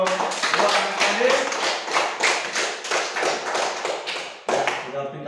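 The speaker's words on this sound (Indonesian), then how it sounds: "kita berikan aplaus untuk dua anak tadi" Classroom audience of schoolchildren clapping for two children, a dense run of hand claps with rhythmic bursts and pulses, fairly close, briefly dipping near the end before resuming.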